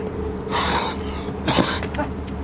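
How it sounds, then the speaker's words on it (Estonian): Someone coughs and clears their throat in two harsh bursts over a low background hum, in a short drama set during a pandemic. "Lõpeta ära see köhimine!"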